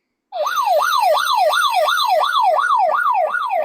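A wailing emergency siren serves as a sound effect in a radio drama, cycling up and down in a fast, regular yelp, loud and steady from start to end with no voices.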